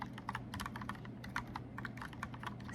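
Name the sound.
typing on mechanical keyboard with round keys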